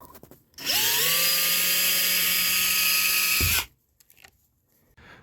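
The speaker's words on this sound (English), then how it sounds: "I'm going to drill some holes for drainage" A power drill boring drainage holes through a container for a Texas garden bed, one steady loud whine of about three seconds that spins up and cuts off abruptly, followed by quiet handling noises.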